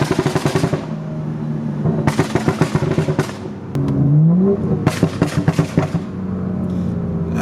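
A BMW M235i F22 with traction control off lets out rapid bursts of crackling exhaust backfire, machine-gun-like pops in quick clusters around a short rev, loud and close.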